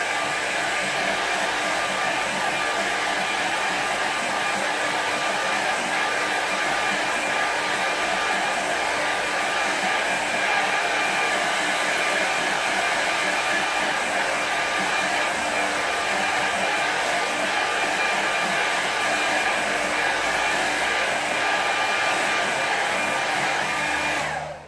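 A hair dryer dries a watercolour painting of a winter walk scene, blowing as a loud, steady, close whoosh for nearly the whole stretch before cutting off at the end, with no talking.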